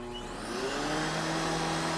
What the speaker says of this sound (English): Let me get this vacuum to keep an eye on all the spots while I'm vacuuming